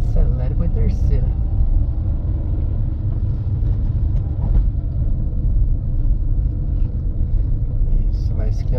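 A car accelerating during a driving-school lesson gives a continuous low engine and road rumble inside the cabin. A voice talks over it at times.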